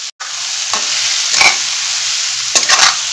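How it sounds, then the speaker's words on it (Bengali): Ground coriander and cumin being stirred into a hot pan for tandoori potato bharta, a steady close sizzle broken by a few scraping strokes of the spatula against the pan. "সব মশলা দিয়ে খুব ভালো করে নেড়ে নিই"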